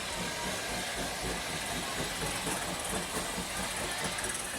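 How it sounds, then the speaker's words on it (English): A replica of an 1848 Gooch steam locomotive runs steadily at close range, giving a continuous dense rumble and hiss with a regular chuffing and clanking texture and no clear break. "this here behind me is a perfect replica of one of Mr. Gooch's engines, built in 1848"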